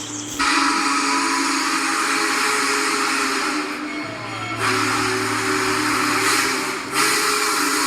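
A Union Pacific Big Boy steam locomotive whistle sounding at full power, a loud, sustained hissing blast with steady steam noise throughout and slight dips and swells, heard close with no voices.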